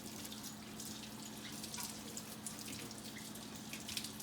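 Running tap water pours steadily over a cheese grater being rinsed at a sink, a continuous close splashing wash with faint drips and no talk.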